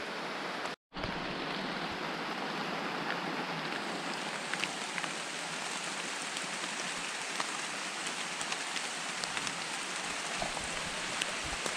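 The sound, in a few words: heavy rain during Tropical Storm Fay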